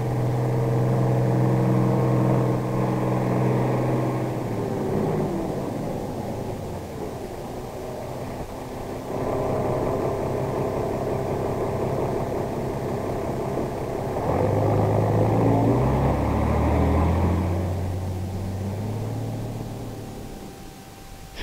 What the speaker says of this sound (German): Hier fährt ein Unimog U80F mit Logger-Rückegerät und Müller-Langholz-Anhänger zum Einsatz